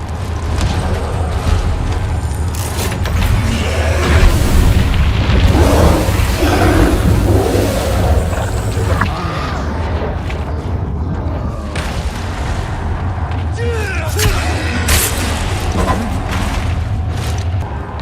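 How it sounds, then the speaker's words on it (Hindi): Deep booming blasts and rumbling roars from an explosion in a Resident Evil 4 Remake cutscene, loud and sustained with whooshing debris and mechanical clatter, no speech. "अब होगा असली धमाका।"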